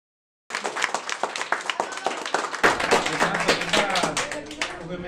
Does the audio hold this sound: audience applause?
yes